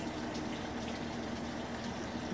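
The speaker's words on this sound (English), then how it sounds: "I'm using a vinegar solution, and I'm going to water my citrus" Vinegar solution pours from a container into the soilless mix of a potted citrus plant, a soft, continuous, steady trickle heard up close and quiet for a couple of seconds.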